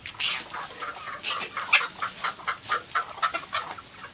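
Black karunkozhi chickens on a farm cluck in a run of short, repeated calls, fairly close and steady, with no talking.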